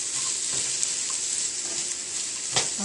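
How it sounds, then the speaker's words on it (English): Garlic sautés in a pan for a vegetarian chili with a steady, close sizzle and a couple of small clinks of stirring over a few seconds. "we're going to saute this for somewhere between 3 minutes and 5 minutes"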